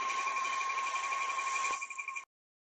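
An electric mixer whirs steadily through chocolate cake batter, a constant high-pitched motor whine that runs without letup for about two seconds before cutting off abruptly into silence.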